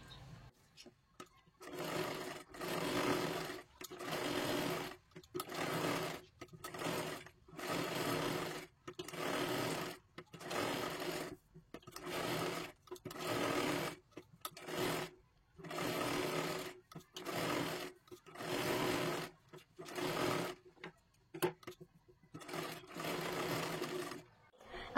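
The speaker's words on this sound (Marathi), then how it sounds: "सर्वात आधी 5 नंबरची शिलाई मारून घेत जा आणि शिल्लक राहिलेला सर्व कपडा कट करून टाकत जा." Sewing machine running on a katori blouse lining, in repeated bursts of steady whirring stitching separated by short pauses, fairly close and loud with no talking.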